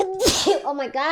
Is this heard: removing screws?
no